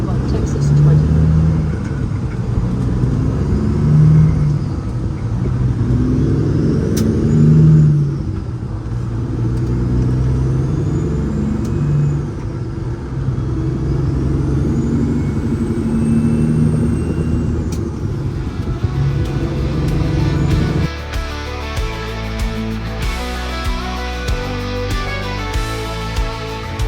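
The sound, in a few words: car driving down the highway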